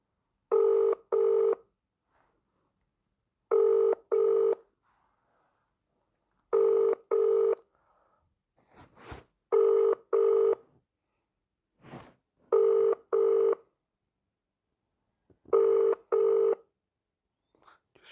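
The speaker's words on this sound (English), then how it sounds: "Ringing up Graeme Kenna, City Solicitor." A telephone rings out on a call to a city solicitor's office in Bradford, with a regular repeating pattern of paired ringback tones separated by silences, clear and alone.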